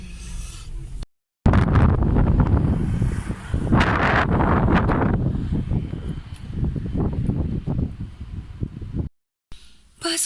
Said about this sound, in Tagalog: Ang hangin sa labas.